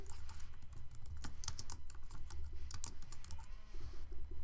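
Rapid typing on a computer keyboard, a steady run of close, crisp key clicks with uneven rhythm over a low background hum, with no talking.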